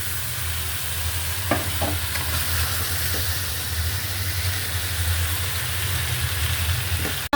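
Fried tilapia pieces go into a pan of onion and tomato curry, sizzling steadily with broadband hiss and a low hum, plus a few soft clinks of stirring; no one speaks.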